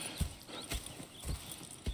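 Horses in Red Dead Redemption 2 clopping along at a walk, a few distinct hoof strikes over roughly two seconds, fairly quiet and heard alone.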